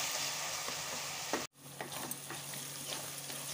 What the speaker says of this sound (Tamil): தக்காளி பாருங்க நல்லா வதங்கிருக்கு